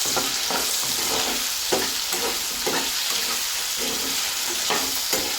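Onions and potato pieces fry in a pan for an aloo and tomato curry, a steady close sizzle broken by repeated scraping stirs of the spoon, with no voices.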